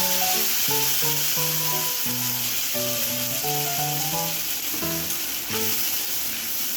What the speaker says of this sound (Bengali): তেলটা বড্ড ছেটকাচ্ছে